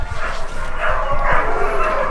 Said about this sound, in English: So these puppies are just a few weeks old and they're still with their mother.